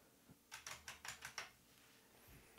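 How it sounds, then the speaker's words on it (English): Computer keyboard keys are pressed in a quick burst of about six crisp, close keystrokes, followed by quiet. "if we press a few more keys"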